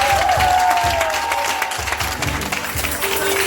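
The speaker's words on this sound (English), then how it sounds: "Can we just give them a round of applause" Audience at a community policing forum clapping in a steady burst, with a few scattered cheers, a low thumping rumble and faint background voices mixed in.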